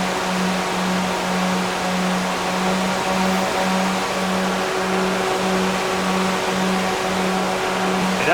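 Electric radiator cooling fans on an LS-swapped Mazda Miata whir steadily and loudly with a constant hum and faint pulsing, alone with no talk.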